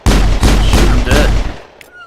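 Gunfire in the video game Mass Effect: four loud, punchy shots in quick succession, each with a short echoing tail, then fading to quiet.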